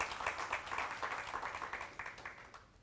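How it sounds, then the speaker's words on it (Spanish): Church congregation claps together during a worship service, a steady rhythmic patter of many hands at moderate distance that carries on for a few seconds. "dale un fuerte aplauso al Señor."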